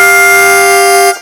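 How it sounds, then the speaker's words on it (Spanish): A single sustained blues harmonica draw on holes 2 and 5 together, a bright reedy two-note chord held steady and loud for about a second before cutting off. "esa combinación se usa mucho en la armónica,"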